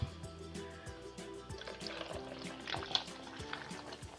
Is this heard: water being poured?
yes